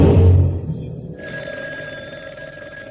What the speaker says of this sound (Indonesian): siapa lagi yang telepon?